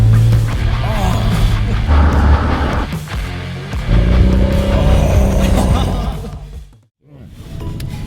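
A Mazda RX-7 with a rotary engine being driven, a loud, close, continuous engine drone with rising and falling revs and a brief dip near the end.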